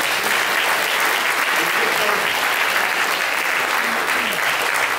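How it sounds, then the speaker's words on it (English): At a local history society lecture, the audience breaks into a sustained round of applause that stays loud and even throughout, with faint voices mixed in. "I think Francis deserves another round of applause."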